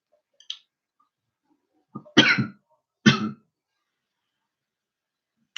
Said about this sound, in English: Sorry, guys, I've got this cough.